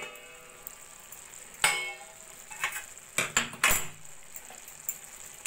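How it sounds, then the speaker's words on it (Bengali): Metal pot lid lifted off a simmering beetroot and carrot curry, giving a sharp clank followed by a cluster of quick clinks and rattles, close and fairly quiet against a still background. "এবার আমি ঢাকাটা তুলে দেখে নেব।"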